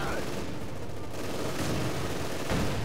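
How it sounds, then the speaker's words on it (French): Dense battlefield gunfire and heavy cannon booms from a Panzer tank in Company of Heroes 2, rolling continuously and loud, with a voice speaking over the combat. "Tire de Panzer"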